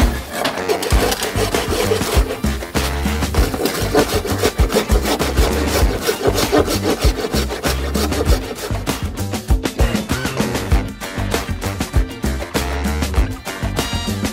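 Hand sanding or rasping along a wooden boat hull being prepped for launch, a steady continuous scraping and rubbing with rhythmic back-and-forth strokes, close and fairly loud throughout with no talk.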